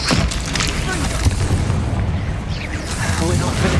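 A Confringo fire spell bursts with a loud, booming explosion in the Hogwarts Legacy game. It rumbles across the whole short span, with a voice speaking over it.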